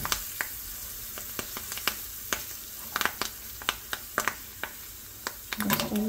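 Curry leaves hit a hot pan of cooking oil and sizzle steadily, with a quick run of sharp crackles and pops over a constant frying hiss, close up and unaccompanied by speech.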